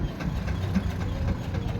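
A Rusi 100cc motorcycle engine idles close by, a short low throbbing rumble with a steady uneven pulse and no talk over it.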